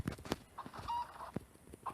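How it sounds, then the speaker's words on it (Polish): Minecraft chicken clucking, a faint series of short, soft clucks with the game's low background sound, and no talking over it. "Czy to jest kurczak?"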